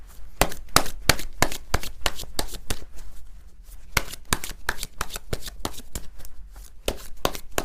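A tarot deck is shuffled in quick repeated riffles, each a crisp papery burst, close and fairly loud in an irregular rhythm with no talk.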